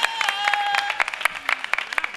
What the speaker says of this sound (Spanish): ¡Un aplauso fuerte al Gravy!